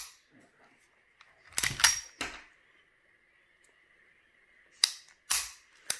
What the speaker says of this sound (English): Now we'll show the reset, off, releasing, about a quarter of an inch or more.